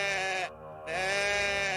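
A goat bleats in a long, loud, wavering cry with a brief dip midway before resuming, close by and alone.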